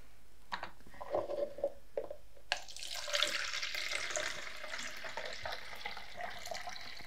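Liquid developer is poured out of a film developing tank while processing FP4+ film in Rodinal: a few small clinks and sloshes, then a steady close splashing pour into a sink.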